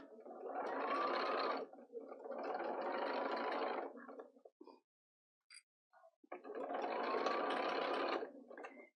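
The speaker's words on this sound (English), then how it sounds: "And then we'll sew our 1/4-inch seam." Sewing machine running a 1/4-inch seam through layered fabric for a market bag, three steady whirring bursts of about two seconds each with a short pause and faint handling clicks between, close and alone.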